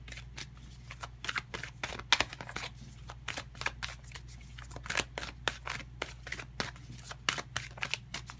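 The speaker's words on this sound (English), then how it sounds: "So let's go ahead and get a card here." Tarot cards riffled and pulled from a deck during a pick-a-card reading, a long run of quick close papery flicks and snaps, steady and dense with no talking.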